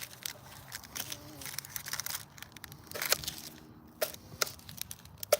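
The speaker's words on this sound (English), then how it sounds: "I'm only gonna cut up part of the onion" A knife cuts through an onion, giving a run of close, crisp crunches and cracks at an irregular pace, with quiet pauses between bursts.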